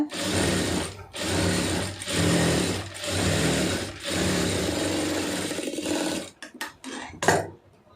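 A sewing machine stitches blouse lining in five steady runs separated by short pauses, ending in a few quick stop-and-start bursts and handling clicks.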